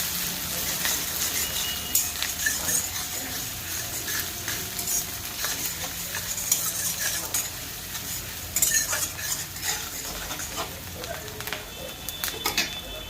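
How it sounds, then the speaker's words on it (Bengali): Chopped green chillies and onions fry in a pan, a soft, continuous sizzle with frequent utensil scrapes and stirring clatter, close up, with brief faint talk. "কাঁচা লঙ্কার পেঁয়াজ একটু লাল লাল করে ভেজে নিব।"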